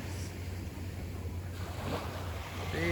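Ocean waves wash continuously at Negril beach, Jamaica, a close, steady surf hiss over a low rumble that swells slightly toward the end, with no talking.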